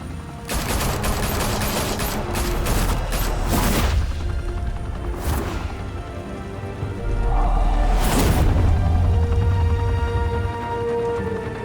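Dense, loud gunfire rattles through a shootout in Batman: A Telltale Game, with rapid overlapping bursts and heavy booming blasts that rise and fall across the scene.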